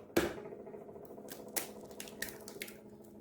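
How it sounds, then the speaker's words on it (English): Four cracked eggs whisked in a bowl for Nigerian chin chin dough give a handful of sharp, irregular clicks and taps of the utensil against the bowl, close and fairly quiet. "Then I whisk it in"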